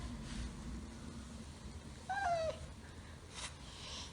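A cat gives a single short, rising-falling meow near the middle, fairly clear over a quiet background, with a faint soft noise later.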